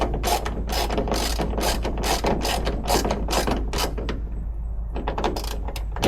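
A ratchet tightens the bolts on a carbon fiber hood fitted to a 2024 Cadillac CT5-V Blackwing, with rapid clicking strokes in steady bursts, close and clear, with a short pause before a final few pulls.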